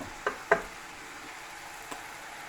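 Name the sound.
pasta and vegetables stir frying in a pan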